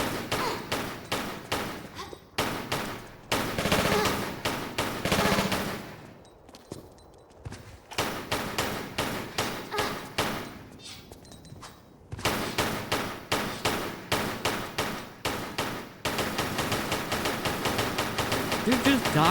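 Sustained enemy gunfire in Tomb Raider 4, loud bursts of rapid shots in long strings broken by a few short lulls, with a voice talking over parts of it.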